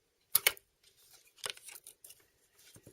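Scissors snipping paper to trim a handmade birthday gift tag, a few crisp close cuts in quick succession followed by softer scattered rustles and snips, quiet surroundings.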